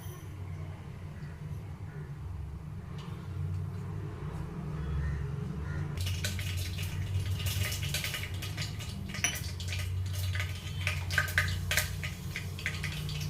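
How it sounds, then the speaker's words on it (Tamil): Mustard seeds splutter in hot oil in a pan while cooking a cluster bean curry, a dense crackling and popping that starts abruptly midway and continues steadily, fairly close, over low kitchen background hum. "ஆயில் சூடாகிடுச்சு கடுகு சேர்த்துக்கலாம் கடுகு பொரியுது"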